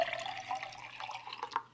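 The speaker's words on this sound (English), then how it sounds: "Pour the water into the glass." Water poured into a glass, a short trickling splash with drip-like pings that rises briefly near the end, quiet and alone.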